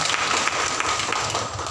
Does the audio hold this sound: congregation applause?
yes